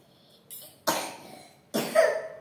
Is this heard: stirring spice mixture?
no